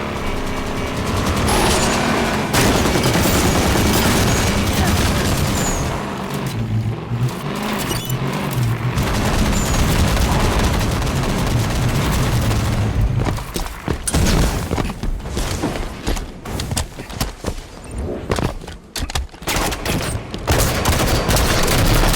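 A video game battle at blue base during a capture-the-flag match rages with dense, continuous gunfire, booms and roaring vehicle engines, loud and chaotic throughout with shifting bursts.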